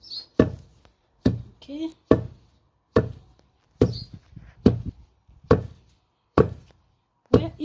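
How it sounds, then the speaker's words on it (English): Seeds being pounded to crush them for a seed ball recipe, delivering a steady series of loud, close, heavy thuds roughly once per second, each ringing out briefly; a voice speaks a single short word between strikes. "So we need to continue pounding. We need to make sure that they are well crushed."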